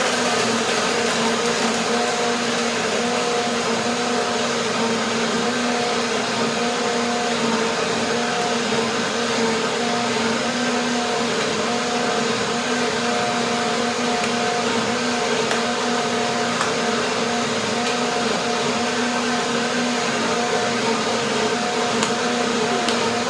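A blender whirs steadily for over twenty seconds while blending hazelnuts into cinnamon nut milk, a constant loud motor hum with no talking.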